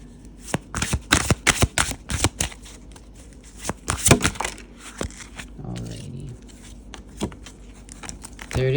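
Tarot cards are shuffled up close in quick, crisp bursts of riffling and slapping, loud and uneven for the first few seconds before thinning into softer, sparser rustles, with faint talk underneath.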